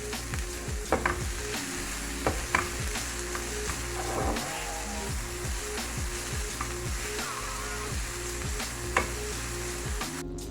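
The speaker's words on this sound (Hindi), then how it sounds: "1-2 मिनट के लिए इसको अच्छी तरह ऑयल में सारी सब्जियों को फ्राई कर लेना है।" Mixed vegetables fry in hot oil in a pan, a loud continuous sizzle close up, broken by repeated scraping stirs and light clinks of a utensil against the pan.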